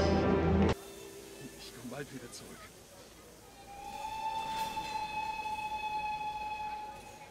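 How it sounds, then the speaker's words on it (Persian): A train pulling out of a station, a steady rolling rumble with a long sustained whistle tone rising in the second half, heard at a moderate distance behind a noisy film soundtrack. "قطار داره حرکت میکنه، سوار شید، زود سوار شید."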